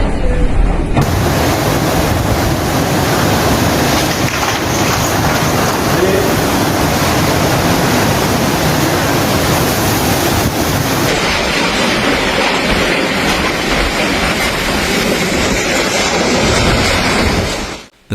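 Cyclone Chido's storm winds roar across Mayotte, a constant loud broadband rush of wind and buffeting noise that hardly varies for the whole stretch, with a brief shift partway through.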